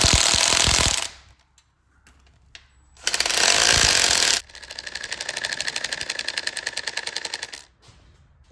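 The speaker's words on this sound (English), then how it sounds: "I set my torque wrench quite a bit lower than what's required, just to get these snug down a little bit" Ratchet torque wrench snugging down bolts on a seized engine, with two bursts of loud impact-tool hammering, then a long run of rapid, even ratcheting clicks close by.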